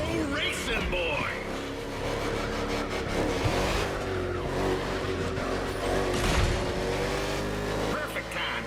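NASCAR race car in The Crew Motorfest, engine droning and shifting pitch at speed with a tire squeal and revving surges, under steady talk.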